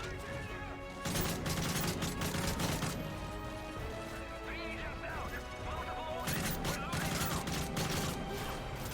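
Rapid gunfire in the video game Call of Duty: Modern Warfare 3 crackles in loud bursts over a busy battlefield mix, with heavy firing around the first and last few seconds and a voice speaking over it.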